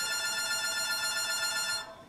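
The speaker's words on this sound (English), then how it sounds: "The phone rings." A telephone bell rings steadily for nearly two seconds, a bright, sustained trilling tone, then cuts off and leaves only faint room noise.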